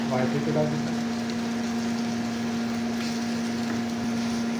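Onion, green chili and tomato frying in a pan, a continuous close sizzle under a faint steady hum, with a voice speaking briefly at the start.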